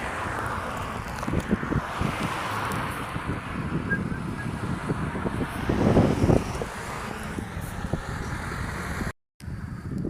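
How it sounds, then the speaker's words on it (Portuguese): Gusty wind blowing through a city street near a cemetery in Joinville, buffeting the microphone with rough low rumbles and a stronger surge midway, over faint distant traffic. "Deus fazendo um pouco de vento na cidade de Joinville nesse exato momento."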